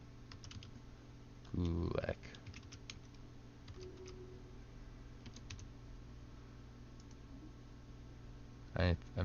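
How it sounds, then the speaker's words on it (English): Computer keyboard typing during a Stellaris game session, with faint quick clicking taps under a low hum and a voice speaking briefly. "Now this is the game slowing down because I'm typing."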